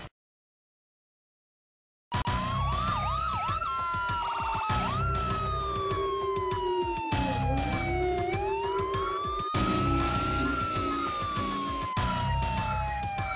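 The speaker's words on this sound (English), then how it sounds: "Time to get this patient in the ambulance." An ambulance siren from the video game ER: Heroic Measures wails loud and continuous after a short silence, with rising and falling electronic tones and a rapid yelp pattern in between.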